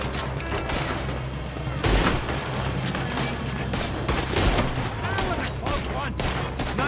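Dense gunfire rattles through a Red Dead Redemption 2 shootout, with rapid overlapping shots and heavier bursts as a near, loud, continuous barrage. Voices can be heard faintly beneath it.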